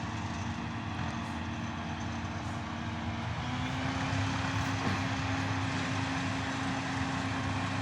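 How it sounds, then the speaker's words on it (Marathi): A heavy diesel sugarcane harvester drones steadily throughout beside a tractor in a cane field, a low engine rumble with a constant mechanical hum, loud and close, no voices. "ट्रॅक्टर त्याच्या बाजूला ऊसाची मशीन"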